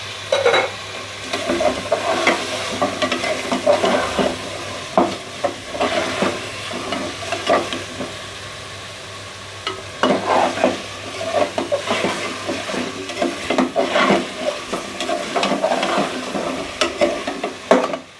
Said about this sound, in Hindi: अभी तकरीबन 4 से 5 मिनट हो गए मुझे इसमें भूनते हुए। तो मैं इसके साथ अभी डाल देती हूँ टमाटर।